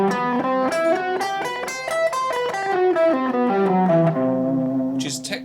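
An electric guitar plays a quick run of single notes through a pentatonic scale starting from C, heard alone and close. The notes are cleanly picked in a rising-then-falling line and end on a sustained note, followed by a brief scratchy noise.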